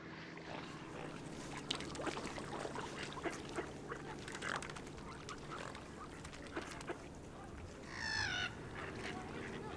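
Migrating wildfowl, shelducks and geese, call at a shoreline sanctuary over steady outdoor background noise, with a clear rising call standing out near the end.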